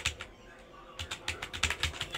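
Typing on a computer keyboard while entering text for a Facebook ad setup, a quick burst of soft, close key clicks after a short pause, faint and fairly dry.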